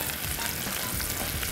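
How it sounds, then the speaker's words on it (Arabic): Onions sautéing in vegetable oil make a dense, steady, close sizzle with a faint crackle throughout, no voices. "انا حطيت زيت وهبتدي اعمل ايه؟ اشوح البصل"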